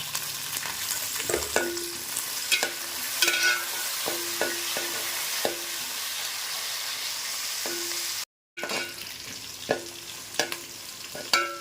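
Green chillies, curry leaves, onion, garlic and cinnamon fry together in a pan for tamarind kuzhambu, with a light continuous sizzle and a series of sharp stirring taps and scrapes, cut by a brief silent gap.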